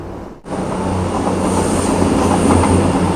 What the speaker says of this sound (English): There's a train going over there.